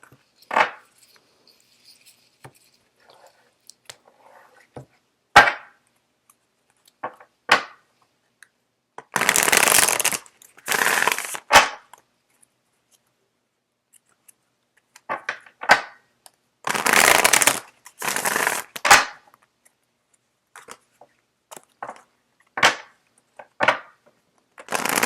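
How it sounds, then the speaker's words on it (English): Tarot cards are shuffled in a few separate bursts of crisp riffling, with soft taps and handling sounds between them and long quiet gaps. "Just give me a second while I get the cards shuffled out."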